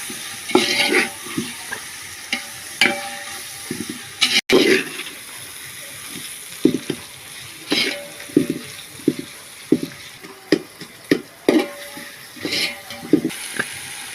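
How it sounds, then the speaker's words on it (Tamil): Four hundred grams of tomatoes and four green chillies sauté in a pan for vadi biryani, with repeated clattering spatula strokes against the pan over a continuous close sizzle. "தக்காளி நானூறு கிராம் பச்சை மிளகா ஒரு நாலு இப்போ கொஞ்சம் நல்லா வதங்கணும்"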